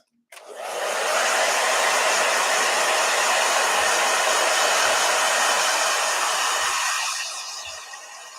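A blow dryer runs steadily and loudly for several seconds, a continuous close whooshing hiss that starts abruptly and eases slightly near the end, with faint knocks underneath.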